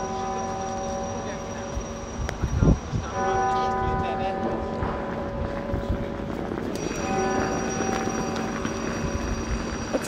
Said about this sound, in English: It's chiming.